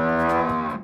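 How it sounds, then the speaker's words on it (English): A cow moos in a single sustained, harmonic call lasting under a second, loud and close, with no other sounds around it. "It's a cow!"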